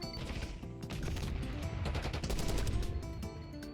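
Dense, rapid gunfire from the video game Black Ops 6 crackles almost without pause, bursts overlapping into a sustained volley at steady loudness with no talk over it.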